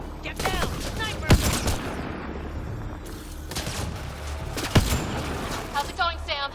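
Gunfire in the video game Mass Effect Andromeda: a few sharp shots and bursts amid game ambience, with a player and characters talking throughout.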